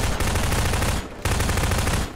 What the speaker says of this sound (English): I was fucking unloading on that bottom one and it wouldn't break with the machine gun